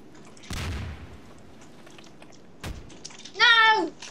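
Two sharp broadband blasts of gunfire, about two seconds apart, fired at a pirate ship in a Garry's Mod video game battle, followed by a short high warbling tone over faint background noise.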